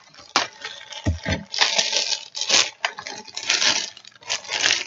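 Product packaging for a multi-function workbench is cut open up close with crunching, scraping and rustling of cardboard and plastic, plus a couple of dull knocks, in irregular bursts with no talking.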